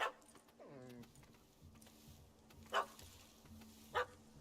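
A dog in The Witcher 3 video game gives a whimpering yelp, then two short sharp barks spaced apart, faint against quiet background ambience.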